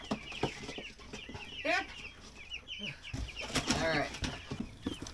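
Baby chicks and chickens in a chicken tractor on a farm cluck and peep in repeated high chirps over several seconds, close by, with a brief spoken word.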